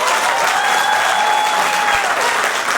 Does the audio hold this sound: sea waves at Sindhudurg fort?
no